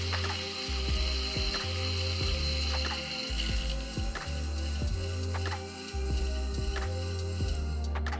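A Varia VS3 coffee grinder grinding beans at low speed, a close mechanical whir with repeated ratcheting clicks and pulsing surges in a steady rhythm.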